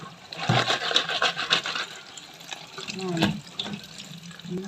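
Sprite poured into a pot of crabs, a short splashing gush of liquid followed by lighter trickles and a faint fizz, with a voice speaking briefly partway through.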